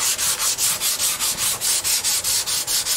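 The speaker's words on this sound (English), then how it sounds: "there's going to be a whole lot more of that sanding to do" Back of a custom RSW California Gold guitar being hand-sanded, a steady rhythmic rasp of repeated strokes, close and loud, about four per second with no talk.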